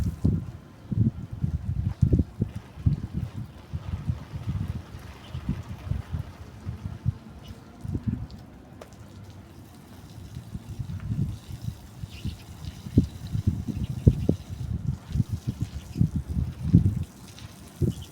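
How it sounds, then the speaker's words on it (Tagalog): Strong wind buffets a camera outdoors beside a young garden planting, with irregular low rumbling gusts that come and go in bursts, loud at times and easing off in the middle. "malakas ang hangin, umuga yung camera ko guys."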